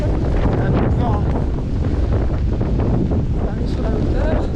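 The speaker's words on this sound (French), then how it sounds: "Et il y a du vent." Strong wind buffets the microphone on a hilltop on the Mondarrain above Itxassou, in constant low gusts and roars, a rough, blustery rush filling the whole stretch.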